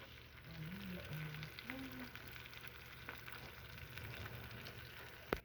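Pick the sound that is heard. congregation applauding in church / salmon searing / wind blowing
salmon searing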